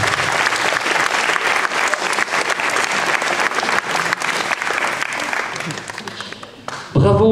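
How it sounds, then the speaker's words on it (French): An audience at a three-day tournament gives the referee team sustained, loud applause with dense clapping throughout that fades slightly before a voice cuts in at the end. "applaudissements s'il vous plaît pour l'équipe des arbitres"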